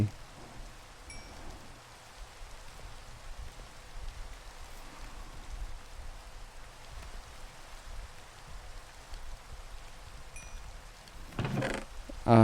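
Steady rain falls in the Minecraft video game, a soft continuous hiss of drops at an even level throughout, with a brief louder burst near the end.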